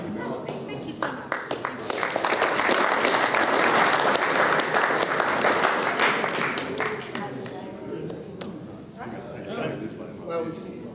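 An audience at a centenary celebration presentation breaks into sustained applause that swells in the first seconds, stays dense and loud through the middle, then thins into scattered claps as voices come through underneath.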